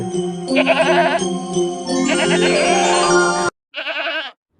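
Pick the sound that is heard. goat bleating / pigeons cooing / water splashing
goat bleating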